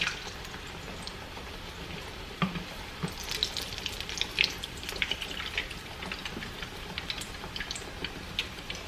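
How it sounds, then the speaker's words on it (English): A sope frying in hot oil in a pan, a continuous crackling sizzle dotted with sharp pops and spatters, close and steady throughout with no talking. "throw your sope in there"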